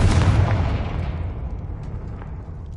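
A Confringo blasting spell explodes in the Hogwarts Legacy video game with a loud, broad boom at the start. The blast decays into a long rumbling tail that fades over a few seconds.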